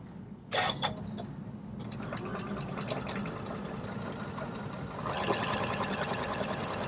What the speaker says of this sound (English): I'm actually gonna sew from the wrong side because I want to make a really long run all the way